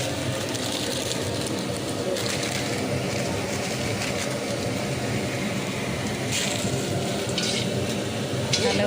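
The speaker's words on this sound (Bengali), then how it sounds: "এদিকে মরিচটা তো ভাজা হচ্ছে।" Dried red chilies frying in hot oil while khichuri is being cooked, giving a steady, close, crackling sizzle that runs unbroken throughout.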